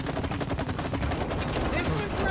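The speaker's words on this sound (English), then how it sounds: "can you, you shoot it through this little hole right here" Rapid gunfire from the co-op video game It Takes Two, a fast continuous burst of shots, loud and close, with game sounds around it.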